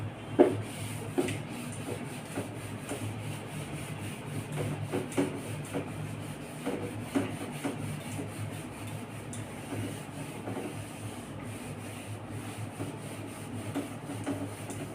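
Writing being rubbed off a classroom board, heard as a long series of soft, rhythmic scraping strokes, fairly faint and close, with no talking over it.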